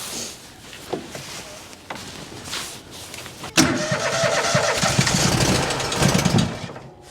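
An aging blue farm tractor engine is cranked a couple of times, then fires with a sharp bang and settles into a loud, rough running idle, close by.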